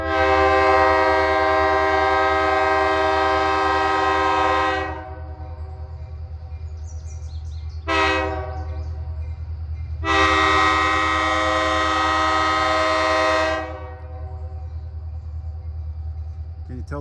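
A train rumbles steadily past while its horn sounds in long loud blasts, a short honk between them, the engine drone continuing underneath.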